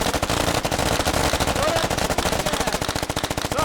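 Sustained automatic gunfire in the military shooter game Squad, dense rapid bursts cracking near and loud throughout, with faint shouting voices underneath.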